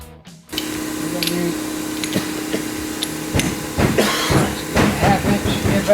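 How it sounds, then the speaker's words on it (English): A half-inch impact gun driving a 3/4 inch socket on a 2007 Chevrolet Equinox front strut fires in short, sharp hammering bursts, loud and close, after a steady hiss, with workshop clatter around it. "Half-inch impact gun, 3/4 inch socket."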